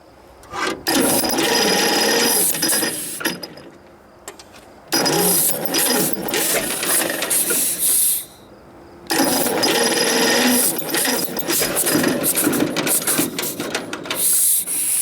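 A John Deere AR tractor drives an old plate grinder by belt, grinding flour: loud, steady mechanical clatter and rattle in three long bursts, separated by brief quieter pauses, with no talking.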